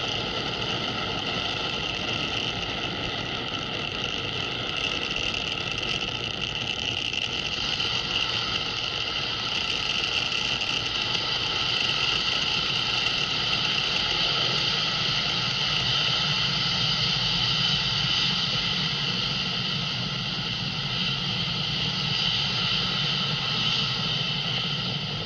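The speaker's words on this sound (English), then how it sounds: "You are watching Falcon 9 accelerate spaceflight's Sherpa LTC-2 and our Starlink satellites out into space." A SpaceX Falcon 9 rocket carrying Sherpa LTC-2 and Starlink satellites accelerates after launch, a steady, even engine roar with a faint whine that holds throughout.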